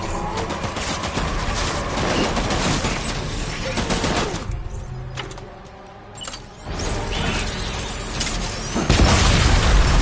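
Gunfire in the video game Death Stranding, with dense bursts and booming shots up close, a brief quieter lull of mechanical sounds midway, then loud firing resuming.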